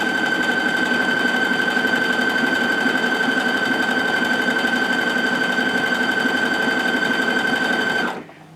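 A domestic sewing machine running steadily on stitch 23 with a J foot, a close, continuous motor whir with a high mechanical whine and rapid needle clatter for about eight seconds before it stops abruptly.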